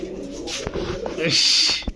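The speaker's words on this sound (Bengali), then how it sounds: "কবুতর গুলার অবস্থা দেখেন" Pigeons coo softly nearby amid rustling and a brief burst of flapping, with a voice speaking underneath.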